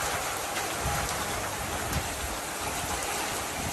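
Heavy rain pours steadily during a rainstorm in Shanghai, a dense, continuous hiss of drops on surfaces with no break and no voices.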